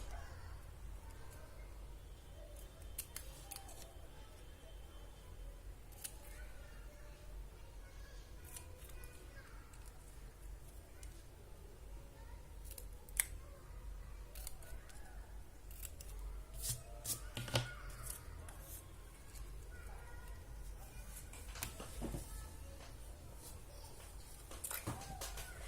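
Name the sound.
trimming a Christmas card with scissors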